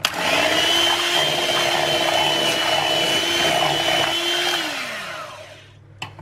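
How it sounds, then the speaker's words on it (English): An electric whisk or mixer beats the last tablespoon into a ricotta cake batter with a steady loud whirring drone for about five seconds, then winds down and stops with a final click. "And a 3rd and final tablespoon, and whisk that in."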